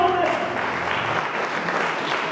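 Church congregation clapping, with a dense, steady wash of applause from many hands filling the room and voices mixed in beneath.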